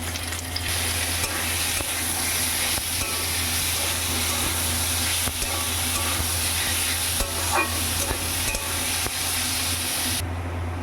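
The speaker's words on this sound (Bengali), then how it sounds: "এই যে পেঁয়াজ রসুনটা খুব ভালো করে ভাজা হয়ে গেছে, দিয়ে দেবো চিকেনের টুকরোগুলো" Chicken pieces fry with onion and garlic in a pan, giving a continuous loud sizzle with scraping stirring strokes throughout and a low steady hum underneath.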